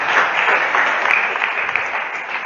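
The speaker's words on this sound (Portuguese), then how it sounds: "Dá uma salva de palmas para Jesus." Catholic church congregation clapping together in steady applause during a sermon, a dense, fairly loud wash of hand claps filling the space with no speech over it.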